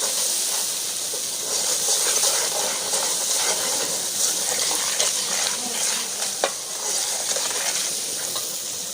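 Korma masala with potatoes and peas sizzles steadily in a pan while being stirred, a continuous close frying hiss with soft scraping and a sharp clink near the end.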